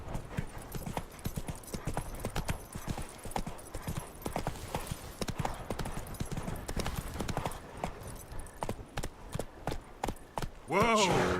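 Horse hooves clip-clop at a steady galloping rhythm in The Witcher 3, loud and continuous throughout, with a brief whinny near the end.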